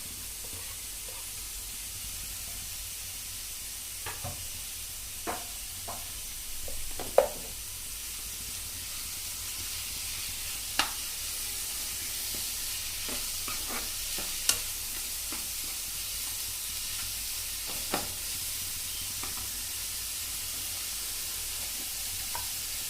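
Tomatoes frying in a pan with onion and ginger-garlic paste for Chettinad pepper chicken masala, giving a steady soft sizzle with scattered clicks and scrapes of stirring, moderately close and without talk.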